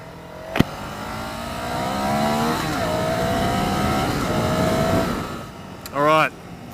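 A Ducati Scrambler Sixty2 400cc motorcycle being ridden, its engine note climbing steadily under acceleration with wind rush, ending in a short, sharp rev burst near the close.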